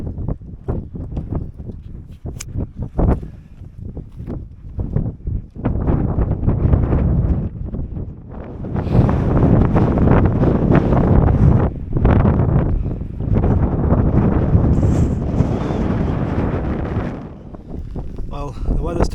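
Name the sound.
wind and sideways rain on a Lake District hillside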